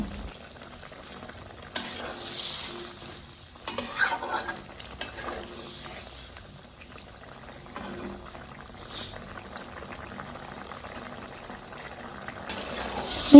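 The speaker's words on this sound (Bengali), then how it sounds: "মাছগুলো দেওয়ার পরে নেড়ে চেড়ে আরও দশ মিনিটের মতো জল করে নেব" Silver carp fish curry with cauliflower and potato simmering in a pan, soft sizzling and bubbling broken by occasional scrapes and clinks of a spoon stirring, fairly quiet and with no talk.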